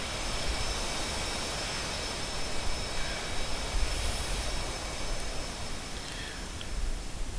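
F-86 jet fighters flying in finger-four formation in a flight simulator game, a steady broadband jet engine roar with a faint high whine, continuous and even throughout.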